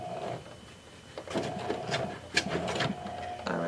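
A sewing machine stitching a gathered skirt, short mechanical runs of stitching with clicks and pauses between them, close and moderately loud.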